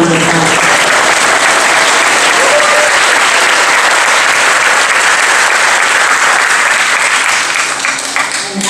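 Audience applause for graduating fifth-grade students at a school graduation ceremony, a loud sustained clapping from a large crowd that runs steadily throughout and thins slightly near the end.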